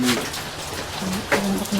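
Heavy rain patters as a steady broadband hiss on a rice farm, close and fairly loud, with a few faint voices underneath.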